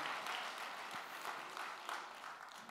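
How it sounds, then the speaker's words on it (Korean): Soft, distant clapping from a congregation at a Sunday service in a Busan church, giving glory to God, holds a steady patter throughout at low volume. "큰 박수 하나님 앞에 영광 돌리겠습니다"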